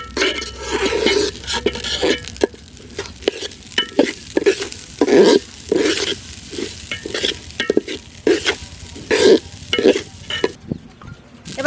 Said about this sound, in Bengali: এবার চালটা দিয়ে 2 মিনিটের মতো চালটা একটু নেড়ে চেড়ে ভেজে নেব।